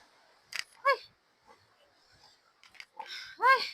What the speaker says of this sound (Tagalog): Yan yung aking alagang baboy